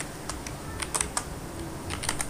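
Rapid key presses on a computer keyboard while a document heading is typed, a steady series of close, crisp clicks spread across the whole stretch with no talking.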